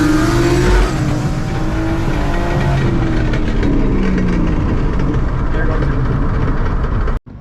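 A car at wide open throttle in third gear, its transmission grenading on the upshift: a loud, steady engine roar fills the clip with voices over it, then it cuts off abruptly near the end.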